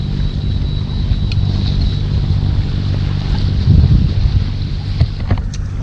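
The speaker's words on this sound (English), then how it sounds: "You're going from 0 knots to 30 knot winds." Strong, steady wind of about 30 knots rushes past a sailboat out on the water, a broad blustery roar with low buffeting gusts and occasional creaks from the boat.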